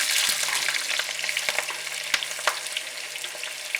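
Onions sizzling in hot oil for a mutton and potato curry, a steady bright crackle with occasional stirring clicks and pops at moderate volume, with no voices.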